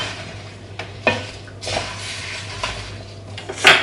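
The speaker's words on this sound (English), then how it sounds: "We're going to stir through our apples and our forest fruit on the" Apples and forest fruit are stirred in a pot on the stove for an apple crumble, with a few scattered clinks and scrapes of a utensil against the pot, moderately close, and a louder knock at the end.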